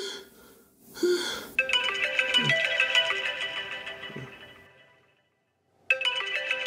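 A phone ringtone plays as a loud, bright electronic melody after a brief breathy sound, cuts off into silence, then starts ringing again at the end.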